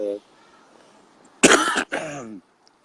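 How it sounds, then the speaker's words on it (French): A harsh, rough cough up close, a loud burst followed by a second raspier hack, with a brief bit of voice just before. "je tousse vraiment sale"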